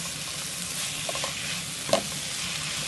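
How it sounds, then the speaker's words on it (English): Cabbage frying in a pan, a constant close sizzle with a few light stirring scrapes and one sharper clink near the end, no voices. "Our fried cabbage is coming on nicely and it smells so good."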